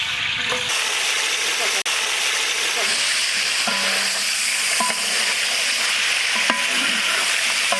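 Sliced potatoes and whole garam masala spices fry in hot oil for a Delhi Mughlai chicken tikka biryani, giving a loud, steady sizzle with a few faint clinks of stirring throughout.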